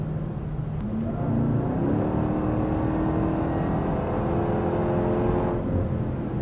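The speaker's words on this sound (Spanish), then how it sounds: "Solo una Durango SRT Hellcat es capaz de ir presionando un Cupra." A Dodge Durango SRT Hellcat pressing hard behind a Cupra on the road; a loud, close engine roar climbs steadily in pitch as it accelerates, with a whirring drone underneath and no voices.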